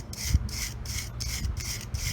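A handheld wire brush scrubs rear disc brake parts after a spray of brake cleaner, giving a close rhythmic rasping in steady strokes with no talk.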